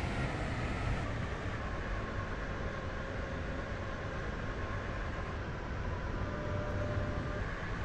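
A Class 802 train in the railway game SCR runs along at steady speed, a faint, even rolling rumble and hiss that holds constant throughout with no voices.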